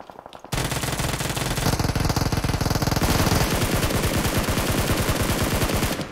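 Uzi submachine gun fire in the mobile game PUBG Mobile, in a rank match around Pochinki, rattles in loud, rapid sustained automatic bursts after a brief quiet start, close and continuous to the end.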